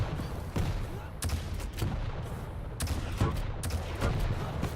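Rocket launcher fire in Quake Champions during a duel match, several sharp rocket shots and blasts spaced across a busy, steady game soundscape.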